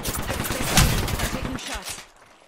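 Video game gunfire in a squad firefight: a dense, loud volley of overlapping shots peaking mid-burst, then thinning out and fading over the final half second.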